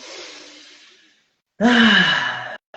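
A group leader takes a deep breath: a long, airy inhale that fades out, a brief silence, then a loud voiced sigh-like exhale.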